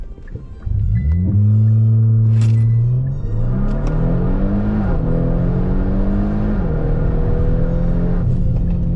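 A ProCharger-boosted car with a boost leak accelerating hard, its loud engine roar climbing in pitch through several gear changes, with air surging out under the drone.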